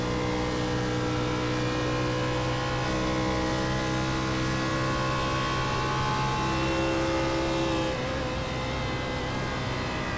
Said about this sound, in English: You hear it drop a cylinder right there going into turn 1